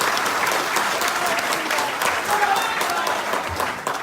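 A crowd of party workers at a BJP felicitation ceremony in Kolkata claps for the young workers, a dense, continuous wash of applause with faint voices underneath.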